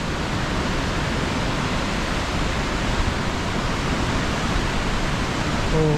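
Heavy rain falls near Mount Cook in New Zealand, giving a loud, unbroken broadband roar of pouring water that stays even and close for the whole stretch.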